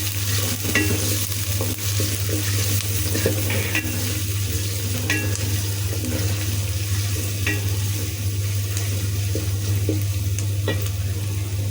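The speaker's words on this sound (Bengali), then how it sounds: "আমাদের পেঁয়াজ রসুনটা ভেজে তারপরে দিব 2টা চিংড়ি মাছ" Chopped onion and a few whole small garlic cloves fry in oil in a pan, ahead of shrimp going in, giving a steady loud sizzle with scattered spoon scrapes and clicks throughout.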